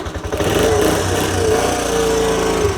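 Small engine sputtering into life with the choke on, then running at a steady, loud, close roar with a slightly uneven beat.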